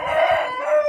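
Chickens kept in a backyard coop, with a rooster's crow and clucking close by, one sustained call filling about a second with no talk.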